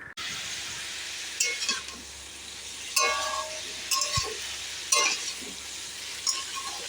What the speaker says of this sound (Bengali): তো দেখো ব্রোকলিটাকে প্রথমে ভালোভাবে ভেজে নেব